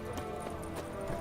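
Steady clip-clopping of horse hooves in The Witcher 3, a continuous even rhythm at moderate volume over a dense background, without pauses.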